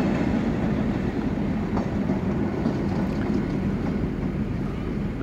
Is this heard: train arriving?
yes